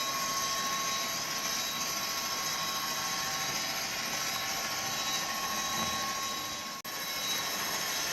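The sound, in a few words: Bachmann class 57 model locomotive motor straining on heavy load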